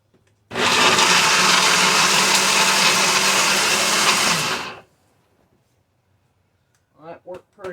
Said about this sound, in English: I'll move the blender down here so it won't deafen y'all so badly.